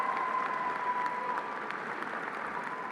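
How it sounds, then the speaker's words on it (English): Steady applause from a high school graduation audience honoring parents, friends and family, an even wash of many hands clapping at moderate distance, holding level throughout with no voices over it. "I would ask that if you would give a round of applause to your parents and your friends and family who was able to come here tonight."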